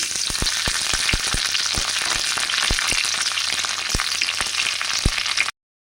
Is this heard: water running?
no